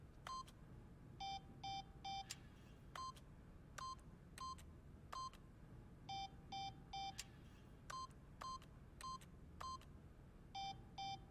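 Keypad PIN entry beeps in the video game The Stanley Parable: short electronic tones come in quick clusters of three or four, repeating steadily over a low background hum, with a few sharp higher clicks mixed in.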